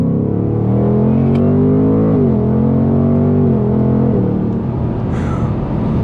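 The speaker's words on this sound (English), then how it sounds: "Dude, I love those shifts. Those shifts sound so good." A 2024 Mustang GT engine drones loudly and steadily from inside the cabin while driving, with its pitch dipping at each gear shift, two distinct shifts in the run, and no talking.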